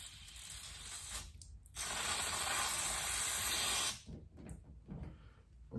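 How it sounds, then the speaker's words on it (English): Brake cleaner sprays into a stuck door lock on a 1995 Nissan D21 in a garage, a loud steady aerosol hiss in close bursts, the longest lasting about two seconds, with rattling clicks as the spray stops and starts. "Brake fluid cleaner, or brake cleaner."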